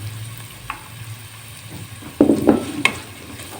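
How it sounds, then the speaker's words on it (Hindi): Onion frying in a pan gives a soft, steady sizzle with scraping stirs and clinks of a utensil, close by, with no talking. "ये 1 अदद प्याज है जो मैंने हल्का फ्राई करना है।"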